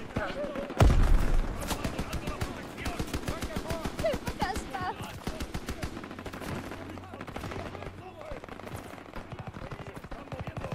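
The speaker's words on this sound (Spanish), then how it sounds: "Se oyen disparos. Muy peligroso." Rapid machine-gun and rifle fire from a World War II shooter game, Call of Duty WWII, bursts in close and loud, then keeps rattling in dense volleys with speech mixed into the battle noise.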